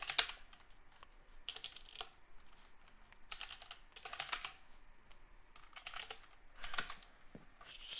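Bursts of rapid clicking keystrokes on a computer keyboard, several short flurries separated by pauses, close and moderately loud.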